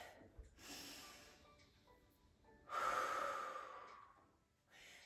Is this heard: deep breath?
yes